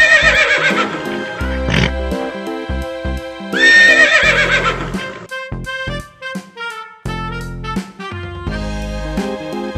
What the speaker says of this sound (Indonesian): Ini adalah kuda.